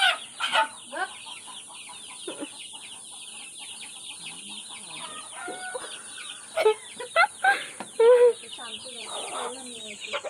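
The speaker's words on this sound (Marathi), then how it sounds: "बघा किती मोठा कोंबडा आहे" Hens cluck and chatter steadily with a rooster's calls mixed in, several loud close squawks bursting out near the end.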